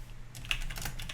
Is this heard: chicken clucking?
no